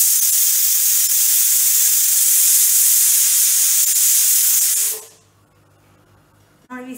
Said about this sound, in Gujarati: ત્રણ વિસલ થઈ ગઈ છે